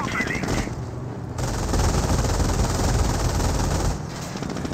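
An MG42 machine gun fires from inside a building in Company of Heroes, long, loud ripping bursts of rapid fire that briefly pause and resume, close and dominant with little else heard.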